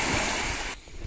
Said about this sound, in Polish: Piękny szum fal.